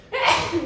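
A single sneeze bursts out close to the microphone, a short sharp onset followed by a breathy, noisy release that fades out over a fraction of a second.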